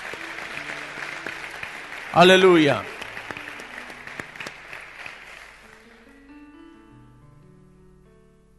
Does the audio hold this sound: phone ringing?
no